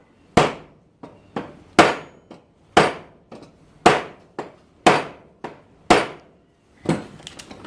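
A steel hammer drives a hammer head down onto its handle against a vise's square anvil: sharp, ringing metallic blows, about seven heavy strikes in an uneven rhythm with lighter taps between them, close and clear with silence in the gaps.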